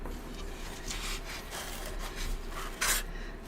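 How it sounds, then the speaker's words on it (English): A brush strokes varnish onto a pyrography wood burning, moving with the grain in soft, repeated swishing rubs, close and quiet, with one brighter scrape near the end. "the next layer of varnish, I will do it this way, the opposite side, still going with the grain"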